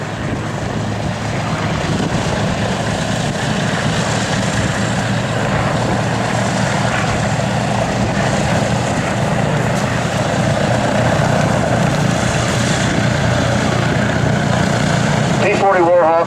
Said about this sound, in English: beautiful victory roll by Dan Dameo in the P-40 Warhawk